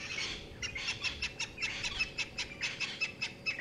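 A francolin calls at sunset in the Sabi Sand bush, giving a steady run of repeated, evenly spaced chirping notes at moderate distance over a soft background hiss.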